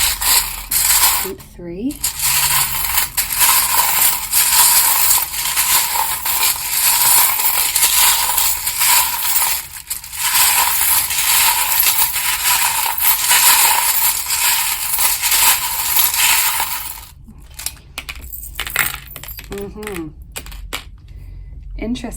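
Metal charms jingle and clatter while tarot cards are shuffled, a dense continuous rattling that runs almost nonstop, with a few brief spoken words near the start and end.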